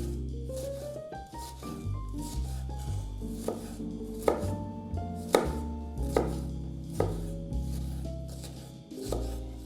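A knife chops bell pepper on a cutting board with a steady run of close, crisp chops, heard over background music.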